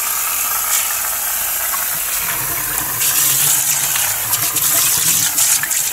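Water pours steadily and loudly into a ceramic sink, a continuous close rushing gush that swells slightly partway through, with no voices.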